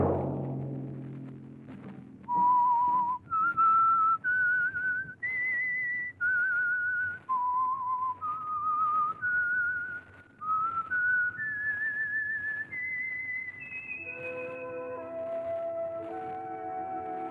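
Whistled theme tune of the old-time radio program The Whistler, a lone melodic whistle of sustained notes climbing and falling, clear and close, ending as an orchestral chord swells beneath.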